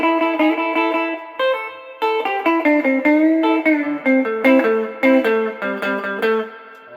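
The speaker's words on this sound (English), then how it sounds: "if I'm going to go to the high output single coil and play" An electric guitar plays through a high output single coil pickup into a Cave Valley PT-86 amp, a loud close run of melodic lines and chord stabs with sustained, slightly driven notes.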